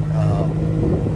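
Steady, loud engine drone from a Skyjack SJ7135RT rough-terrain lift running close by, an even low hum that holds without any clear rise in revs.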